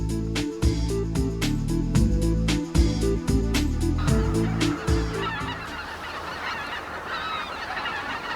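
Geese honk loudly in repeated bursts by a lakeside wetland, several calls overlapping near the start before thinning into scattered softer honks and a noisy wash of water and background calls.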